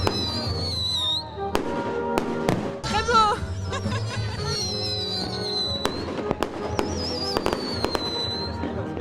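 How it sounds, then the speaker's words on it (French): Fireworks burst in a rapid string of sharp explosions and crackles, with whistling rising tones, while a voice briefly comments and someone laughs nearby. "Des couleurs, des explosions et une Marseillaise magnifique à la fin."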